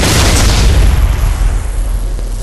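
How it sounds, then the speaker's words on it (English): A Titan reactor core explodes in the video game Battlefield 2142: a loud, sustained blast of deep rumbling roar that stays heavy for a couple of seconds and slowly tapers off. "You blow the core, and then there's a 20-second detonation sequence"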